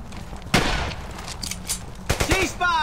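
Machine gun fire and other gunshots crack through a World War II firefight in the video game Brothers In Arms Hell's Highway. The sharp bursts are uneven and loud, with battlefield noise between them and a soldier's voice mixed in.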